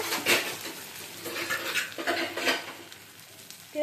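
Chicken darbari is stir-fried in a pan with a spatula. It makes busy scraping and clattering strokes over a soft sizzle, close and fairly loud, with no talking.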